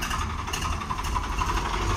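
A Swaraj 855 4 Star three-cylinder tractor engine idles steadily at a busy tractor market, a low continuous diesel rumble with broadband background noise throughout.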